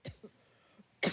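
A person coughs once sharply at the start, gives a couple of softer throat sounds, then lets out a louder, harsher cough at the end, close and clear with no talking.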